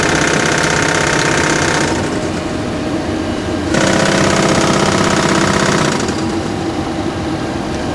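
A Boeing 737NG cockpit stall warning test sets off a loud, continuous mechanical rattling, the stick shaker, that runs through the whole span with shifts in tone near the second and fourth seconds, with no talk over it.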